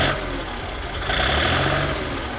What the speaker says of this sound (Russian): Но пока заглушу двигатель